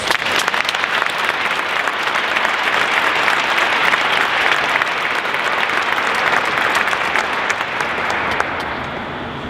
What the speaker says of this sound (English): please join me in a round of applause and support again of all of our graduate students.